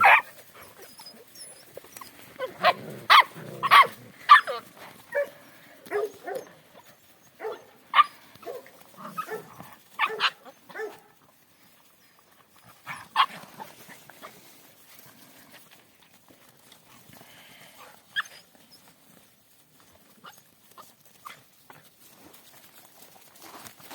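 Puppies yip and whine near their mother in short, scattered bursts, with occasional sniffing and rustling, fairly close, fading to quieter stretches later.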